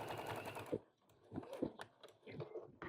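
A sewing machine stitching binding down a mitered corner of a quilted flannel table runner, short bursts of rapid mechanical stitching broken by pauses and fabric handling, close by.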